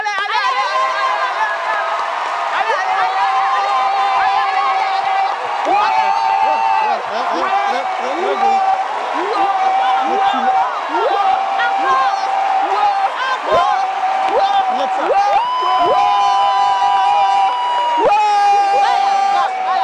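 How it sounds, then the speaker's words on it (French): A comedy show audience cheers and whoops loudly and steadily, with crowd noise and shouts mixed with sustained voices over the whole stretch. "commencez à applaudir"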